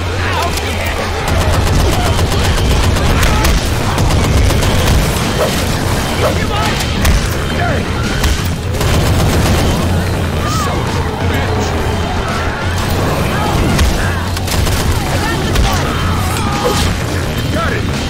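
Dense gunfire in the video game Dead 4 Left 2 keeps up throughout, a loud continuous wash of rapid shots and booms with voices talking over the chaos.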